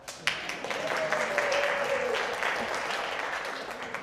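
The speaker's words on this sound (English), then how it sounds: "Go ahead and clap." A church congregation applauds in a continuous, fairly close wash of clapping that swells and holds for several seconds, with a voice briefly audible underneath.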